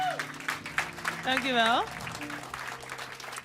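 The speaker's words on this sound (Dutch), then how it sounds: "applaus." Audience applause and cheering at a live Frisian-language music and comedy show, a burst of clapping rising under a speaking host and a brief sung phrase, then settling to scattered claps as talk continues.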